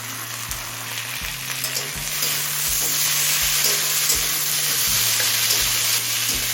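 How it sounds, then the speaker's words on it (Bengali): Tomato pieces fry with whole garam masala in a pan for chicken ghugni. The oil sizzles loudly and steadily, with a regular thump of stirring about every half second. "এবার টমেটো নরম হয়ে আসা পর্যন্ত ভেজে নেব"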